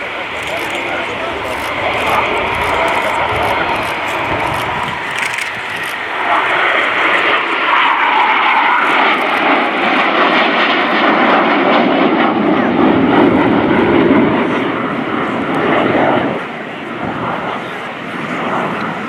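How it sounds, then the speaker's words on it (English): Hawk T2 jet trainer flying a topside pass at an airshow, a loud sustained jet roar that swells and shifts as it sweeps past, with an announcer talking over it. "as Ben and Toby present another view of the Hawk T2 as they fly a topside pass this time round"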